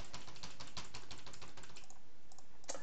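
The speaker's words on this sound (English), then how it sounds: "Now I'm typing over here" Rapid, steady keystrokes on a computer keyboard during a statistics lesson working in Excel, close and clear with no talking, slowing briefly before a final burst of taps.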